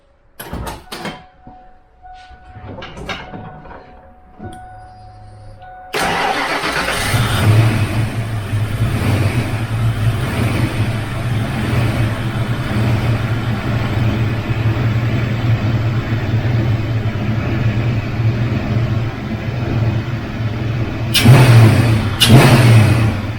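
A Foxbody Mustang V8 with 24-pound injectors, aftermarket heads, cam, intake and exhaust, running untuned on the stock computer with no mass air sensor, starts after a few clicks and then idles loudly and steadily up close, with a couple of brief revs near the end.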